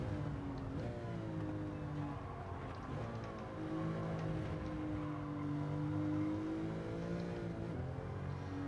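Engine-swapped Volkswagen Beetle '66 racing at Alsace in Gran Turismo 7, a steady engine drone rising and falling through gear changes, with tyre and wind noise around it and no talking.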